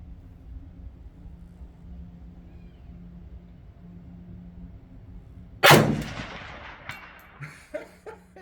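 A Romanian RPK machine gun fires at steel targets on an outdoor range. After a quiet lull, one loud sharp report rings out, followed by several fainter distant impacts and echoes.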